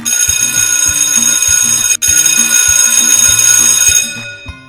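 A loud electric school bell rings continuously with a harsh metallic clatter. It has one brief break near the middle and then fades out at the end.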